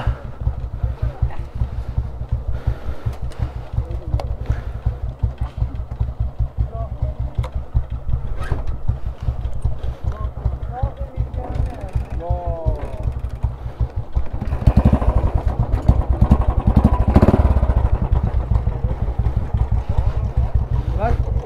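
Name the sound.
motorcycle engine starting and running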